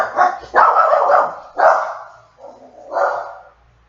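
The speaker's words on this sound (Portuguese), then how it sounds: "isso aqui é Dalila sendo cão de guarda no apartamento" A dog guarding an apartment barks in a few loud, close, hoarse bursts over about three seconds, the last one softer and more drawn out, then quiets.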